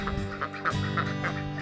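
Meat chickens and laying hens cluck and call repeatedly in a run, several birds close by with overlapping squawks and a steady rhythm of short calls, no talking.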